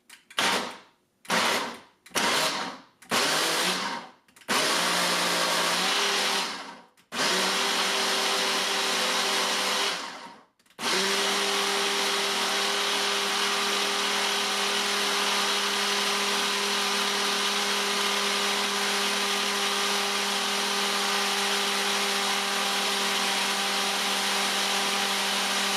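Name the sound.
Ninja Kitchen System blender pulsing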